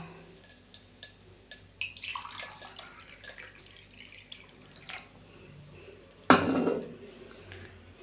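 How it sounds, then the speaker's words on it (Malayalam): A glass of water poured into a cooking pot while making rice gruel, preceded by faint clinks and drips, then one loud splashing pour lasting under a second. "വീണ്ടും ഒരു ഗ്ലാസ് വെള്ളം കൂടെ ഒഴിച്ചു"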